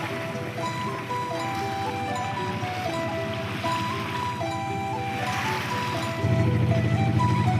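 A sailboat motors across open sea under engine power between islands of an Atlantic archipelago, with a steady low engine drone and water wash running throughout and a louder surge of rumble near the end.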